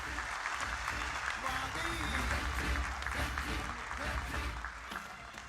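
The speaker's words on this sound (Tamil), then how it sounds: "ஒரு அரங்கம் நிறைந்த கைத்தட்டல கொடுத்துடலாம்" Applause fills a hall for a student speaker at a political party event: continuous, dense crowd clapping at steady loudness with a low rumble beneath, easing slightly toward the end.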